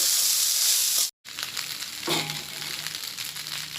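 Par-boiled rice hits a hot pan and fries with a loud, steady sizzle, a brief silent gap, then a lower ongoing crackle as it settles and cooks.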